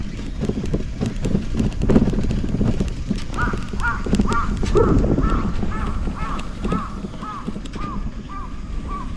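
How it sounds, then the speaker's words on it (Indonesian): Crows caw in rural Japan, with a rhythmic series of repeated caws starting partway through and carrying on to the end over steady wind noise and outdoor rumble. "Di Jepang itu banyak banget burung-burung gagak."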